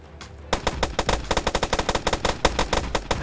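SMG fire in the video game Stormworks, loud rapid bursts of close shots in a fast, slightly uneven rhythm, running nearly continuously with short gaps and no talk.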